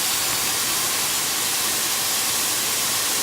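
Ribeye steak laid into a hot oiled pan over medium-high heat, giving off a loud, even, unbroken hissing sizzle that holds steady throughout, close up and with no voices.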